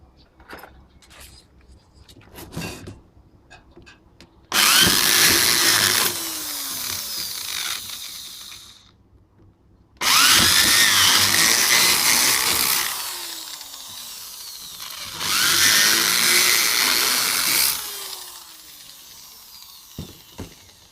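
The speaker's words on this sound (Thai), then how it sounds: "อันนี้คือเจาะแบบทะลุนะครับท่านผู้ชมครับ" Three long bursts of a power drill boring through a window frame, each several seconds long, loud and close, with quiet gaps and faint handling noises between.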